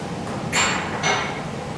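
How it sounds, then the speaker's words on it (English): A hammer lightly taps the top of a loading head on a direct shear test apparatus in a lab, two sharp metallic clinks about half a second apart over low background hiss. "Use your hammer to give the top of the loading head just a couple of light taps to seat it downwards."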